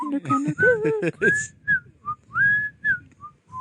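A person whistles the Andy Griffith theme tune, loud and close, following a short stretch of talk, the melody carried in bright sustained notes with brief pauses.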